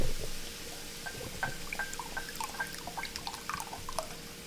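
Clam juice poured into a paella pan, a gentle liquid trickle with light drips and splashes, fairly quiet and steady without any talking.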